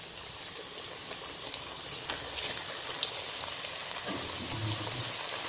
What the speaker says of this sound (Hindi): अब हमारा ऑयल माशाल्लाह अच्छे से गर्म हो गया। अब हमने इसमें अपनी चिप्स ये डालनी है।